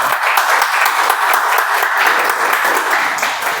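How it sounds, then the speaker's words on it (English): Loud, steady applause from an audience at a Toastmasters meeting continues evenly for several seconds, a thick wash of many hands clapping close by. "Just let's give a huge round of applause."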